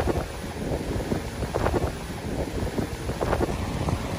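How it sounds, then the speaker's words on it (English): Strong wind gusting around a parked RV at night, a broad roaring rush with loud buffeting surges that rise and fall, close to the microphone and heard alone. "I can't believe how windy it is"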